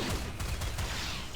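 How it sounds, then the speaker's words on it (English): Colonists' guns fire in Rimworld, a quick rattling fusillade of several close, sharp shots over a low rumbling background. "We've plastered these things with shots"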